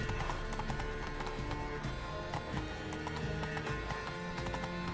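Horse hooves clip-clop at a rapid gallop in The Witcher 3, loud and continuous, mixed with game music and ambient effects.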